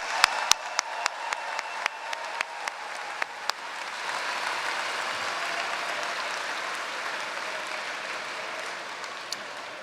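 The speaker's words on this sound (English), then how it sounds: "Please join me in one final round of applause for all of our student leaders." Applause at an MBA commencement ceremony, a broad crowd clapping with a few loud, distinct claps from someone close by in the first seconds, then settling into a dense, even roar of clapping.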